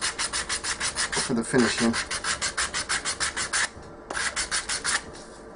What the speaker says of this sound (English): I will go away, carry on with my sanding